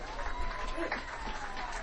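Audience applause at a high school football game's senior night ceremony, a steady broadband wash of clapping under crowd noise, continuous and fairly distant across the whole stretch.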